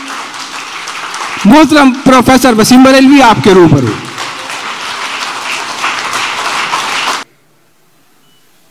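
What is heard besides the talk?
audience applause welcoming poet Wasim Barelvi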